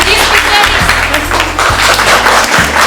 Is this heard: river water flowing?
no